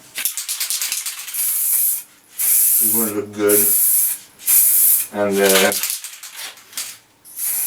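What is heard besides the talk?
spray painting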